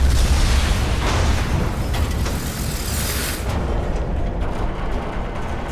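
A bomb blast in Batman: The Enemy Within: a loud, sustained roaring explosion with dense low rumble and crackling debris that holds steady and slowly thins, heard on its own without speech.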